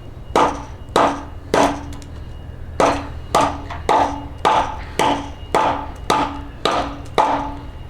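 A Cold Steel Recon Scout knife whacks into pressure-treated wood, landing about a dozen sharp, loud chopping blows at a steady, slightly uneven pace. Each blow rings briefly before the next.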